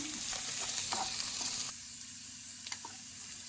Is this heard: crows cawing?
no